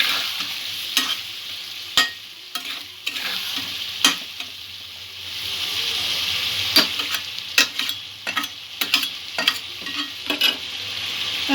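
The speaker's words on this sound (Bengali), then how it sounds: "আবারও সবকিছু ভালো করে মিক্স করে নেব।" Potato and spinach curry being stirred and fried in a pan, a steady sizzle with repeated scraping knocks of the spoon against the pan throughout.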